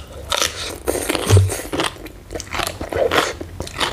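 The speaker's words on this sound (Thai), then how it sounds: "ฟังเสียงความกรอบของเขานะจ๊ะ" Crisp, loud crunching and biting close up while eating spicy Thai som tam papaya salad, irregular bursts of chewing with short pauses between bites.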